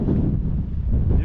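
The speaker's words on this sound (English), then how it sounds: "The wind is making it hard to walk." Force 8 gale-force wind on the Maltese coast at Migra l Ferha buffets the microphone in a loud, deep, continuous rumble with gusty surges.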